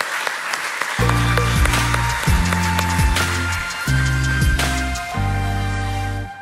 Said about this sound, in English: A round of applause for our current guests on stage